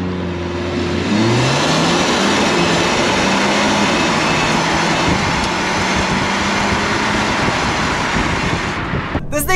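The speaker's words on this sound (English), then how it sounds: "Got like a little overboost surge when it grabs a gear." 2024 Mercedes CLA accelerating hard, a loud sustained engine roar rising through gear changes with an overboost surge as each gear engages, heard from the cabin.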